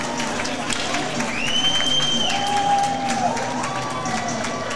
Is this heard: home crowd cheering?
yes